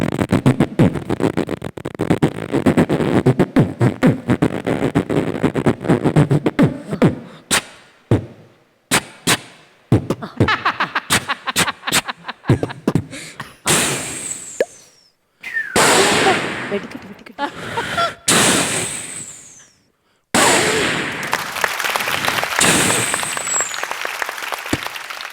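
A performer on a comedy stage vocally imitates bursting firecrackers, producing loud, sharp, irregular bursts broken by short silences, with applause-like noise and crowd sound mixed in.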